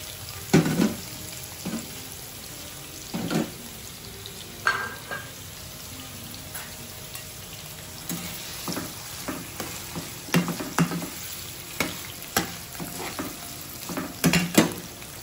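Sausage frying in a pan, a continuous close sizzle punctuated by repeated sharp clacks and scrapes of a utensil turning the pieces.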